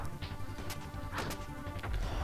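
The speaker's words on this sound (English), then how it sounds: "Hit the chickens. Beat them up." Kirby striking chickens in Kirby Super Star, a string of sharp crashing smacks and thwacks over a busy game soundtrack, with no talking.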